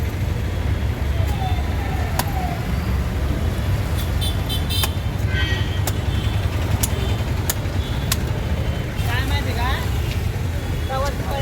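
Busy traffic at the Tirupati bus stand, with a constant low rumble of engines, repeated horn toots scattered throughout and voices talking over the noise.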